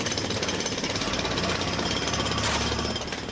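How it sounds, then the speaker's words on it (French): Jackhammers breaking up street paving in Berlin, a loud, dense, continuous rattling pound that never pauses, heard up close with no speech over it. "Dans la matinée, les marteaux-piqueurs entrent en action."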